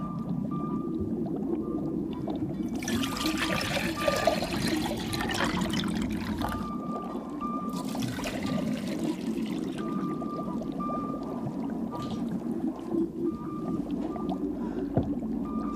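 Water is poured back into a tank holding a model boat, splashing and trickling in two longer bursts and a brief third one over a low background hum, with no one talking.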